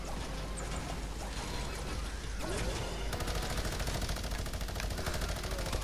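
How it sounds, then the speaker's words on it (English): Rapid bursts of video game gunfire from henchmen fill the scene, a dense continuous fusillade of machine-gun and rifle shots that grows busier and more rattling midway. "I hear henchmen shooting everywhere right now."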